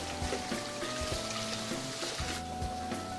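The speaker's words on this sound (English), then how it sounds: "Just going to wash up a little." Water running steadily from a kitchen tap while someone washes up during cooking of grits, with faint clinks and knocks of dishes under the flow.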